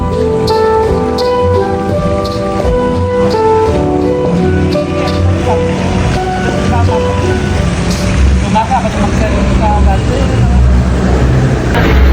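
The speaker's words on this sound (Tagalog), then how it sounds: "ulan dito ngayon sa Tagaytay." Steady rain falls in Tagaytay as a dense, continuous patter, with a low rumble and a faint chiming or music-like tone early on, loud and close the whole time.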